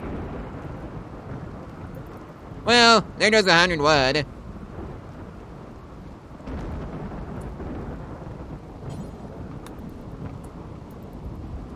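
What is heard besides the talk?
thunder and rain in video game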